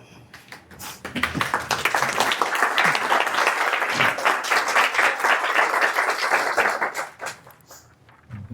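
Applause from an audience at a health talk day for adult transplant recipients: a burst of clapping swells quickly, holds loud and dense for several seconds, then fades away near the end.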